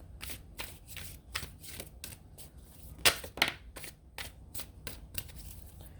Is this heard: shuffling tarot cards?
yes